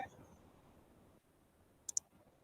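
Two quick, sharp computer mouse clicks sound close together near the end, crisp and close, after a stretch of quiet room tone and faint speech.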